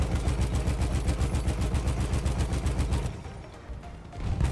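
Rapid automatic gunfire in Battlefield 1 multiplayer, a dense, steady burst of evenly spaced shots for about three seconds, then a brief lull before firing resumes.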